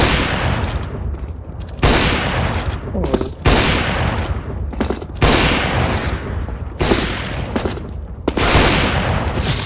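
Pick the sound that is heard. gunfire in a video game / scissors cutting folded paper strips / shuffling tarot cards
gunfire in a video game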